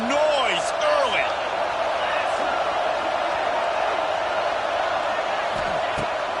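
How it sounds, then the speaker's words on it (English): A football stadium crowd roars with steady, dense noise throughout, broad and sustained, with occasional whoops and a voice rising over the din near the start. "This crowd bringing the energy and noise early"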